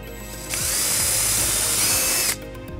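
A power drill bores a hole in a 2012 Volvo XC90 during a trailer wiring harness installation, running as one loud, steady whine for about two seconds, close by, with quieter mechanical noise before and after.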